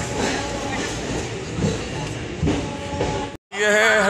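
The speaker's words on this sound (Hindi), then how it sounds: "रुड़की का रेलवे स्टेशन" A train rumbling at Roorkee railway station in India, a continuous broad roar with clattering wheel knocks, then a brief cut and a burst of loud ambient noise with tonal sounds at the end.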